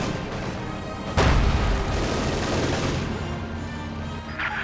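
Gunfire and explosions from a Company of Heroes 2 battle: a sharp loud blast hits, then rolling rumble and crackling shots continue under the din, with another burst near the end.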